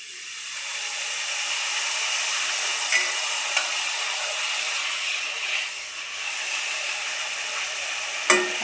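Khakhra frying in hot oil over a medium flame, giving a steady broadband sizzle and hiss that holds throughout, with a few small pops and a sharper crackle near the end.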